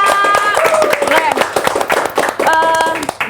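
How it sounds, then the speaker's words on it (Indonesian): A studio audience claps in bursts for guests on an Indonesian talk show, loud and close, with a host's voice and sung tones over the clapping. "tepuk tangan dulu buat Wisnu dan Ica."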